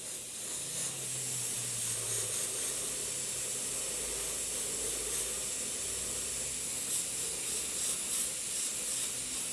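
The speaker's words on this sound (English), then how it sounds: "So you just spray these with your suitable colour. Again, nice and light coats." Spray paint hisses through stencils in light coats, a steady soft aerosol hiss sustained for several seconds at moderate, even level, with slight pulses where bursts restart, and no talking.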